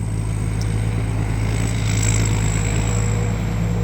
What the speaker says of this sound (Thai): เครื่องยนต์นี่ไม่มีโหลดเลยนะ